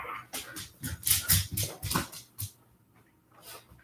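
A pet dog whines and gives a string of short, sharp barks, loud and close at first, then trailing off into quieter whimpers.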